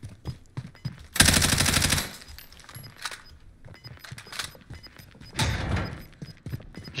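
Gunfire from enemy weapons in Call of Duty Warzone, with two loud bursts of rapid automatic shots separated by quieter game sounds and faint distant pops.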